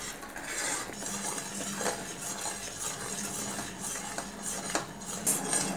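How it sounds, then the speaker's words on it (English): A utensil stirs a boiling rum cake mixture in a pot, close and steady, with repeated scraping and clinking against the metal sides and a soft bubbling underneath, no voices. "So continue to stir."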